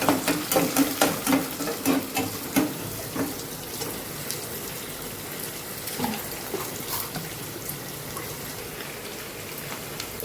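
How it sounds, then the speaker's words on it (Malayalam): Curry leaves stirred in a pan for Kerala moru curry, with a spoon scraping and clicking in a quick regular rhythm at first, then easing into a softer, steady sizzle and patter close by. "കറിവേപ്പില ഇട്ട് മടക്കിയെടുക്കാം"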